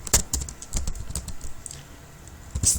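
Keys clatter on a computer keyboard as a command is typed, a close run of quick irregular taps with short pauses between bursts.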